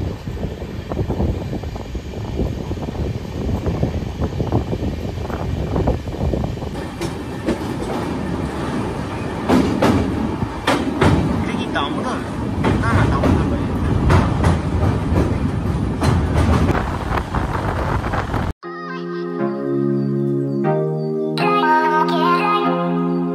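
Kamrup Express passenger train running on rails near Aluabari Road, with a steady rumble and clickety-clack of wheels close by, ending in a brief musical tune.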